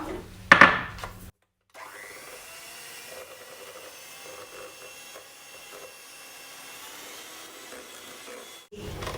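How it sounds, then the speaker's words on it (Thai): An electric mixer whips egg whites with sugar at medium speed for a beetroot chiffon cake, giving a steady, fairly quiet whirring hum after a brief clatter, with no talking. "เราตีไข่ขาวนะคะ เป็นฟอง แบบนี้นะคะ เราก็จะใส่น้ำตาลทรายนะคะ ลงไปตีนะคะ"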